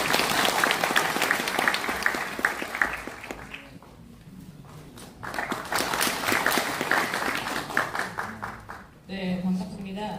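Applause from the audience at a seminar in Sejong, South Korea, as a lawmaker is welcomed to give a congratulatory address: clapping that swells, dips, then rises again over about ten seconds, with a voice briefly heard near the end.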